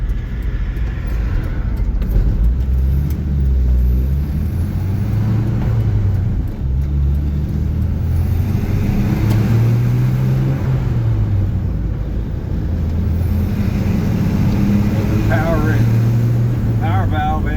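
A 1965 Chevy C10 pickup's carbureted engine drones steadily while cruising, loud and close, with the engine note rising and falling slightly under road noise.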